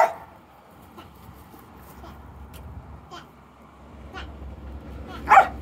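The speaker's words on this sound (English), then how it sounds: "It's a bit of a protest, the barking." A dog barks in protest during stay practice on a training walk, giving a few short, sharp yips spaced apart over low background rumble, ending with a louder bark close by.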